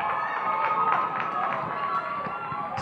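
A crowd at a middle-school girls' soccer all-star match in Bermuda cheers after a goal from a corner kick, a broad, steady roar of voices heard from the stands.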